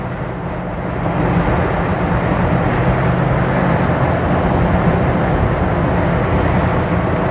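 Wind roars steadily inside a 1955 Lincoln Capri driving on a gusty day, a loud broadband rush with a low engine and road rumble beneath, no talk.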